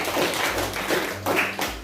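A classroom group gives brief applause after a class presentation: a short spell of scattered hand claps comes in a few uneven bursts, close and moderately loud.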